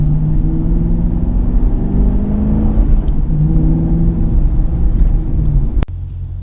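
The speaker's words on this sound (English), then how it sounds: "So I'm going to go on the brake, down to 3rd, down to 2nd, and then I can go around the corner." A manual car slows with the brake and downshifts from third to second gear before a corner, heard from inside as a steady low engine rumble with shifting pitch and a sharp click near the end; no speech.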